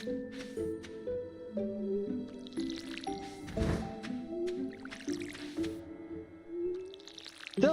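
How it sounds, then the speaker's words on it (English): Watering crops in Stardew Valley: soft repeated splashing and pouring chimes in an even rhythm over light gentle game music, each watering stroke a brief wet burst. "Let's water. Let's do our watering."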